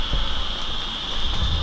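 Steady rain falls outdoors around a car parked on the ground, a continuous dense hiss with faint low rumbles, loud and unbroken, with no talking.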